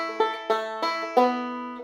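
Bluegrass banjo picking four bright plucked notes in quick succession for measure 2 of The Hallelujah Side, each with a sharp attack and ringing decay, played alone and close.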